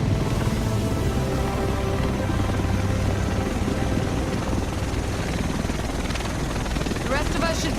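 A helicopter arrives in a game's war-torn Manhattan, its rotor drone loud and continuous throughout, with voices talking over it.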